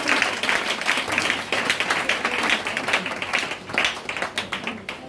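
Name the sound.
congregation applauding in church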